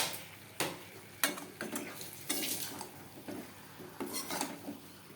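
Meat cooking in a pot is stirred with a utensil, bringing sharp metallic scrapes and clinks against the pot at irregular intervals over a soft sizzle, close and fairly quiet with no talk.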